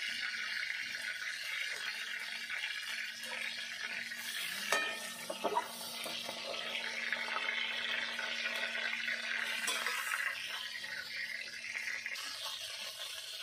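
Chicken pieces fry lightly in oil, a soft steady sizzle with a brief clatter of stirring midway, close and without speech.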